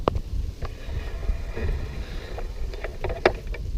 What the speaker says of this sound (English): I do apologise about the wind.